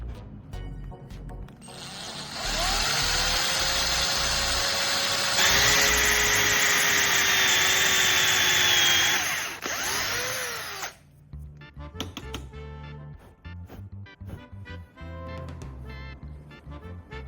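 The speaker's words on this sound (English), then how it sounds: "I need to drill a hole into the cut end of the brush handle" A power drill bores a hole into the cut end of a wooden brush handle, with a loud, steady whine for about nine seconds whose pitch shifts as it bites, then it stops and quieter handling noises follow.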